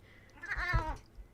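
A domestic cat meows once, a drawn-out, rising-and-falling call at close range, followed by a faint low bump, with no talking over it.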